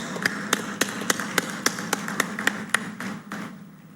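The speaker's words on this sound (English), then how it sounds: "Let's make sure our guests behind us are able to hear your applause." Sparse, evenly spaced claps ring out at the Google Cloud India AI Hub groundbreaking in Visakhapatnam, a small crowd keeping a slow, steady beat of sharp hand strikes that fades toward the end.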